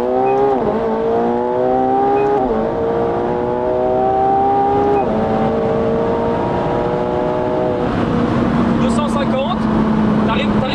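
A McLaren 720S engine revs hard through rising gear pulls on the Autobahn, its pitch climbing and dropping with each shift, loud and close with road roar underneath.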